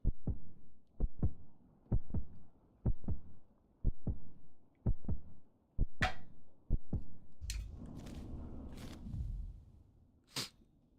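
In Hollow Knight Silksong, a low heartbeat pulses in steady paired thumps for several seconds, then gives way to a rumbling swell and sharp bursts of game noise, with no voices.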